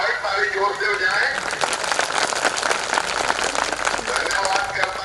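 Large crowd clapping at a Dhamma Vijay Diwas celebration, continuous dense applause filling the whole stretch at steady loudness with no pauses.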